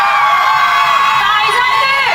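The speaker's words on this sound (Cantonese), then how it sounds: "俾啲掌聲同歡呼聲" A crowd at a celebrity red-packet appearance at Pavilion mall in Kuala Lumpur cheers and screams loudly, a dense wall of high excited voices that continues without a break.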